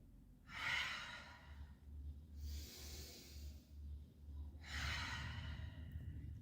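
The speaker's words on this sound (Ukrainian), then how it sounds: "І знову очищувальне дихання." Three deep, forceful exhalations during a pranayama cleansing breath exercise, each a strong breathy whoosh spaced a couple of seconds apart, close to the listener over a steady low rumble.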